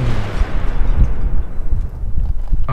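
An explosion in the Battlefield 3 multiplayer game, a heavy low booming blast with rumbling aftermath that fades over a few seconds.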